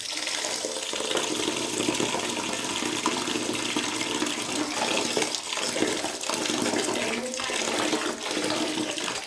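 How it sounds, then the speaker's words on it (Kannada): Four cups of ration rice being washed by hand in water for sandige, a steady close splashing and sloshing of water throughout with no talk. "4 ಲೋಟ ಅಕ್ಕಿ ಚೆನ್ನಾಗಿ ತೊಳ್ಕೊಬೇಕು"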